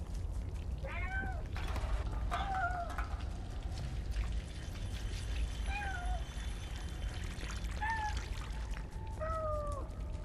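A cat meows several times in the video game Stray: short, rising-and-falling calls spaced over a steady ambient background, with no talking.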